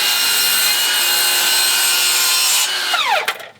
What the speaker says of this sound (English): on this little Metabo HPT 7 1/4 inch saw